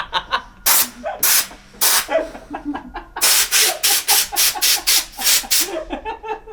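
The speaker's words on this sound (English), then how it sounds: "I think I sprayed him with the raptor coat." Bursts of Raptor coat truck bed liner being sprayed from a spray gun during a truck build, several loud hissing blasts of a second or so each with brief gaps, the later ones coming in quicker succession.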